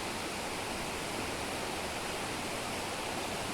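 A waterfall beside the road from Bommudi to Yercaud, a dense, steady roar of rushing water that fills the scene evenly from start to finish.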